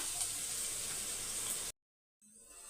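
Onions sauté in a pan for chicken 65 biryani: a steady, soft sizzling hiss that cuts off abruptly, then returns more quietly after a short silence.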